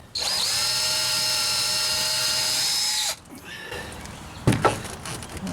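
A power drill whines steadily at high pitch for about three seconds, drilling slowly into a broken rusted bolt, then stops, followed by faint metallic clinks and handling noises.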